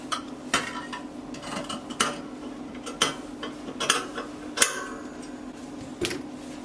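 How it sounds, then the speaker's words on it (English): Scissors cut out the neckline of a pinafore flare dress fabric, giving a series of crisp, close snips spaced about a second apart, with no talk. "I'm cutting out the back neckline. I'll be cutting out the front neckline."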